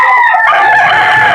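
A loud rooster crow at a chicken sale in Carbon, close and sustained, filling the whole short moment with its strained, ringing call.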